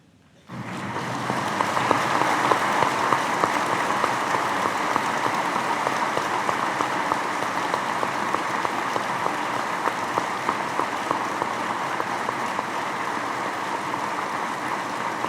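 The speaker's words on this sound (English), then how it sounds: "I want to ask that all law enforcement rise and applaud the life of Special Agent Michael Walter." Law enforcement officers at a memorial service for a Virginia State Police special agent break into sustained applause. A large crowd claps steadily and evenly for about fifteen seconds, filling a spacious hall with no one speaking.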